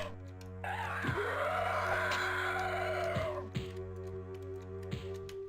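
A character in the DOS role-playing game Daggerfall lets out a long, wavering scream lasting a few seconds, set over a steady, looping game soundscape with several sharp thuds.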